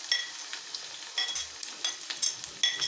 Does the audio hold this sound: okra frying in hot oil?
yes